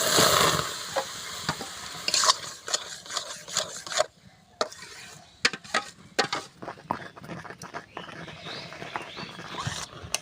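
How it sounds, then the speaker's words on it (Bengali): Raw Langra mango pulp stirred in a hot kadai for aamsatta: repeated close scraping and rubbing strokes with faint sizzling beneath, in an irregular rhythm with short pauses. "এইভাবে ভালো করে নাড়তে হবে, তলায় ধরে না লেগে যেন না যায়"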